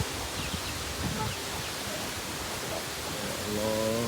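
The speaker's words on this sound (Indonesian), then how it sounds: "kencang kali anginnya." Strong wind blows through oil palm trees beside a house, a dense, steady rushing roar of gusts and rustling fronds that fills the whole stretch with no talk.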